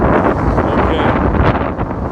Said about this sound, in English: you're going to hear the wind and a lot of road noise